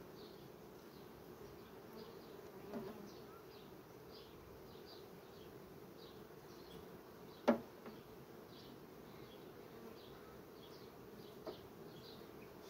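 A honeybee colony hums in a steady, dense buzz during a hive inspection, the drone continuous and close, with a few sharp clicks cutting through.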